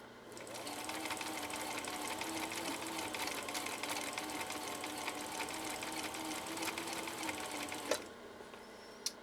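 A 1960s Husqvarna Viking 6440 sewing machine runs in slow gear with a steady, even whirring hum and fine rhythmic needle ticking for about eight seconds, then stops with a soft clunk and one later click.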